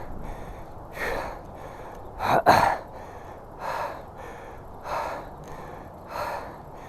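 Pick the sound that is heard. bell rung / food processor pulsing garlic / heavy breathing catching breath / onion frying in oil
heavy breathing catching breath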